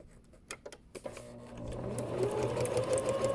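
A sewing machine stitching a fabric corner: a few soft clicks and taps as the work is positioned, then a close, steady whirring run of stitches building in loudness.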